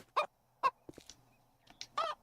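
Poultry calls from chickens in the video game 7 Days to Die, a few short honking squawks spaced out with small scuffling sounds between them, close and clear, no speech.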